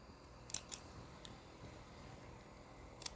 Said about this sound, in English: now cut your threads